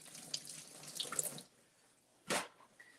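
Tap water runs over vegetables being rinsed in a kitchen sink for about a second and a half, then a short second gush follows after a pause.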